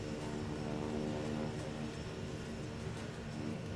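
Kodiak K100 propeller airplane departing runway 36, a steady loud engine and propeller drone holding an even level throughout with no voices.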